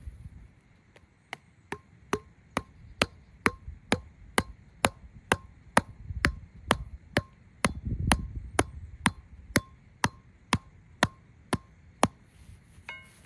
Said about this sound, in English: We're gonna hammer this pipe in right here.